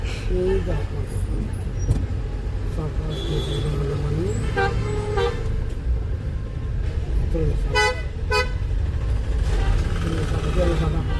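Horns toot repeatedly in dense city traffic, several short and fairly loud honks from cars and buses over a constant roar of engines and road noise, while people talk throughout.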